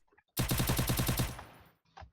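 A rapid burst of automatic gunfire from a shooting video game, about a dozen quick shots in a loud, close, steady rhythm that stops abruptly, followed by a faint tail.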